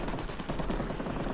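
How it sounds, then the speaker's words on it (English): A rear gunner's machine gun rattles in rapid continuous bursts during an aerial dogfight in World of Warplanes, loud and dense with no talk. "My rear gunner is able to shoot at least a little bit"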